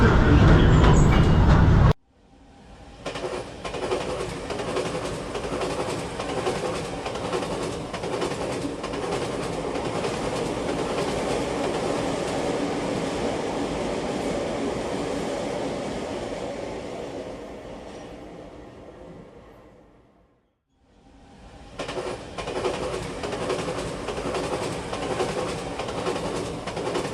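Steady rumbling of the Disneyland Railroad train rolling along rails, continuous and fairly loud, with a brief drop near the end before the noise resumes.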